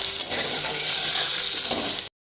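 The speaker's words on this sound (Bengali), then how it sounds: "পেঁয়াজটা আগে ভাজা হয়ে আসুক" Onions sizzling and frying in hot oil, a steady crackling hiss for about two seconds with light stirring, then cutting off.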